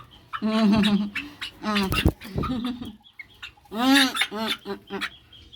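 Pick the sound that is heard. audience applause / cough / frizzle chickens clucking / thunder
frizzle chickens clucking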